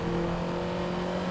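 A Ferrari 288 GTO engine holds a steady, moderately loud drone with a slight rise in revs while driving in the Assetto Corsa racing game, with no talk.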